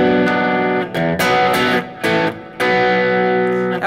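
Sustained electric guitar chords at very low volume with slight amp breakup giving a gritty, distorted edge, changing every second or so with brief gaps between them.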